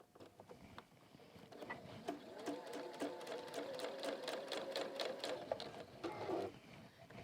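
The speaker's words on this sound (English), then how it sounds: "we can now sew around there" Fast, close stitching from a sewing machine working its way around a hat, running in quick rhythmic bursts with brief pauses, fairly quiet overall.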